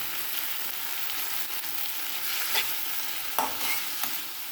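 Hot oil hisses and crackles steadily as spices fry, with a few louder pops and a spoon scraping near the end; no talking.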